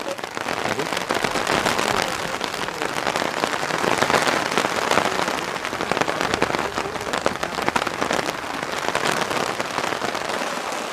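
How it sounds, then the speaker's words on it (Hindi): Steady rain falls continuously and evenly on surfaces during a quiet meditation session, a dense broadband patter with no voices over it. "बारिश को देखते हैं"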